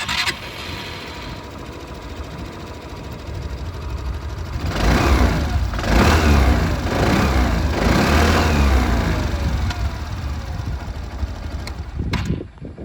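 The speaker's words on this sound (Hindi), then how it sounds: "ये था बर्गमैन स्ट्रीट 125 की आवाज़" A Suzuki Burgman Street 125 scooter engine idles with a steady hum, then is revved, swelling louder in repeated pulses before settling back down, close to the microphone with no talking.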